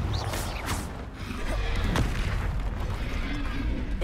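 A Confringo blasting spell explodes in the Hogwarts Legacy video game, a sharp booming burst cutting through continuous rumbling battle noise and other magical impacts.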